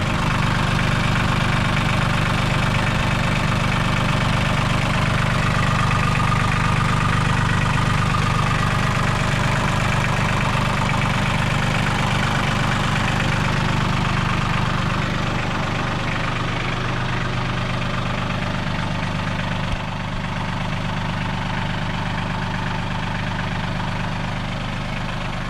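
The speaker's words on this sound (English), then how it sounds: "It's a little 3-cylinder diesel." A New Holland TC30 tractor's small 3-cylinder diesel engine idles with the hood open, a loud, steady low chug that holds evenly throughout, with no talking.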